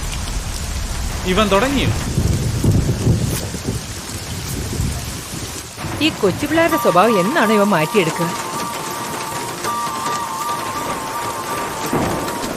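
Rain and thunder of a downpour heavy enough to keep someone from walking to a car, a steady hiss with rumbling underneath, continuing beneath loud dubbed dialogue and background music throughout.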